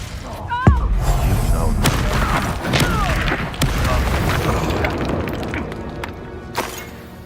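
Incendio fire spell blasting in Hogwarts Legacy combat: a sharp whoosh and booming burst over dense battle noise, with thuds, crackles and shouted spell calls around it.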